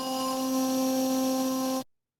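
A sustained drill lead preset from Native Instruments' Trill Rays synth expansion holds one steady chord with bright harmonics for under two seconds, then cuts off abruptly into silence.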